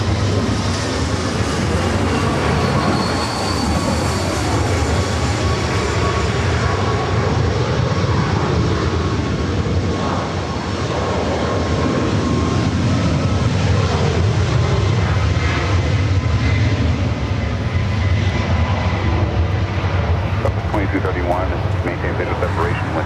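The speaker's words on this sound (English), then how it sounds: "runway 24 left, clear for takeoff" A jet airliner takes off from runway 24 left at Los Angeles International Airport, its broad engine roar loud and sustained while the pitch shifts slowly, with radio voices faintly underneath.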